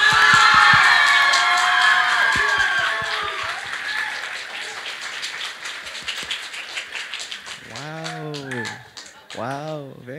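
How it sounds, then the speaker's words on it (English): An audience in a school gym at a high school Thingyan Water Festival show bursts into loud applause and cheering that fades over several seconds, then excited voices and shouting carry on. "applaud exactly how much you would rate the show"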